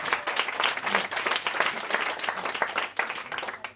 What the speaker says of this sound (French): Alors, vous applaudissez.